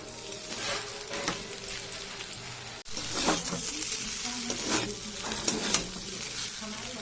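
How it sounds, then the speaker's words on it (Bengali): Egg stirred into chowmein in a hot pan, giving a busy sizzle with scraping and tapping from the spatula, briefly cut off near the middle before resuming louder. "দেবো এবার ডিমটা। একটু নাড়বো।"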